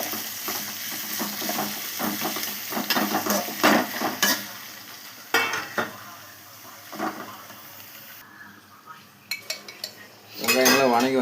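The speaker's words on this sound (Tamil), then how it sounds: "போட்டுட்டு வெங்காயம் பொன்னிறம் ஆகிற வரையும் நம்ம அதை வதக்கி விடுவோம்." Onions sautéing in a pan while chapati with chicken is cooked, a soft sizzle broken by repeated scraping and clanking of a utensil stirring against the pan, fairly quiet and close.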